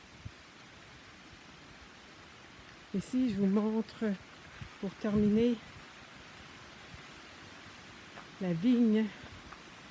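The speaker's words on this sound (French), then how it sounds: "C'est agréable la pluie quand même." Rain falls steadily over a garden with a small pond and mulched grapevines beside a cedar greenhouse, a soft continuous hiss running throughout beneath someone speaking French in short bursts.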